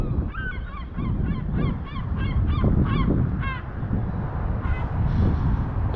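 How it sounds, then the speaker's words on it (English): Screaming seagulls at a Nova Scotia fishing cove call in a run of repeated harsh, honking cries over steady wind and surf noise, loud and near, then trail off into fainter calls. "It's always interesting to hear the sound of the screaming seagulls."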